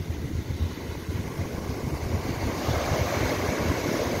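Surf rolling in steadily at Praia de Cruz das Almas beach in Maceió, a continuous wash of breaking waves with wind buffeting the microphone and no voices.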